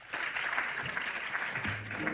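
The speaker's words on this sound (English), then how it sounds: "Can we give these panelists a warm round of applause?" Brief clapping from an audience for a panel at an environmental summit in Nigeria, a dense patter of hands that continues steadily, with a voice speaking briefly near the end.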